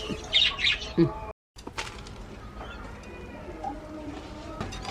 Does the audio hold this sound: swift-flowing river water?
no